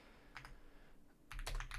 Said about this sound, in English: I'm typing those in the chat right now.